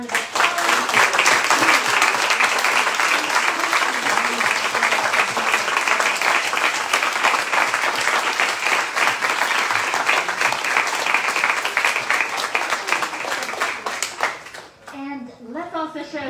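A large audience at a Square Books author event in Oxford gives loud, sustained applause with some cheering, dense clapping filling about fourteen seconds before it fades and a voice begins speaking.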